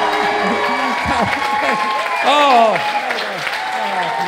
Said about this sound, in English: Ladies and gentlemen, give up the clap.